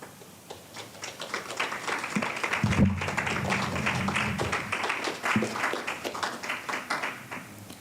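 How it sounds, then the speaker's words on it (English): Audience applause after an evening satsang, a dense steady patter of many hands clapping that swells and holds for several seconds with no talking over it. "Can we give them another round of applause?"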